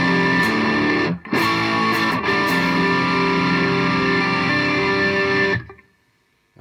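An electric guitar plays through an amp's overdrive channel with the effects loop bypassed, giving a thin, steady distorted tone that briefly cuts out once, then rings loud and close before ending in sudden silence.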